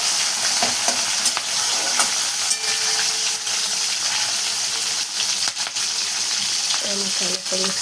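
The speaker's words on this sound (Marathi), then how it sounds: "मसाला मिक्स करून घेतले बघा." Masala of mustard seeds, cumin, tomato and curry leaves for pumpkin curry, sizzling and being stirred in a pan: a dense, constant hiss of frying with occasional scrapes and clinks of the spoon, close-up, no voices.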